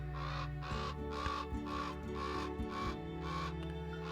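Raven caws from the Wingspan board game's app, a run of harsh croaking calls repeating over a steady game soundtrack, close and moderately loud.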